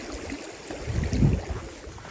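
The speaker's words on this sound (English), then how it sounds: "There was even a running river." Icy mountain river running through the Scottish Highlands in winter, a low, steady rushing wash close by with a soft swell midway.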